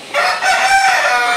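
A rare peacock-coloured rooster, about 13–14 months old and weighing 3.5–4 kg, crows once, loud and close, with nothing else heard.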